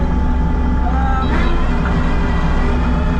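Heavy machine engine running steadily at about half throttle, a loud continuous drone with a brief surge, heard close up from inside the cab while clearing a driveway.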